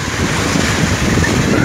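Waves and wind on a beach at Tonsupa, Esmeraldas, Ecuador, a loud, steady wash of surf with blustery wind buffeting the microphone, no pauses or individual breaks standing out.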